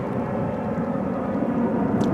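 Jet2 passenger jet passing overhead on the approach flight path near Cramond Island, a loud continuous broadband roar and rumble filling the short stretch with no talk.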